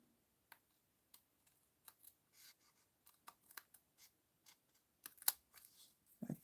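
Scissors trim a piece of card with sparse, quiet snips and light paper rustles spaced irregularly, close by in a hushed studio with no talking.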